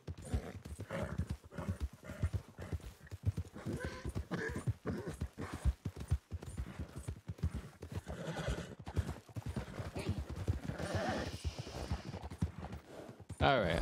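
Horse hooves clip-clop in rapid, steady rhythm in the video game Red Dead Online, close and continuous, with a horse neighing briefly near the end and faint talk underneath.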